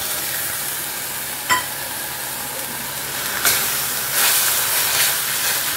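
Onion, ginger and garlic cooking down over low gas with tomato puree just added, giving a soft, steady hiss and sizzle with a few sharp clicks of a spoon against the pan.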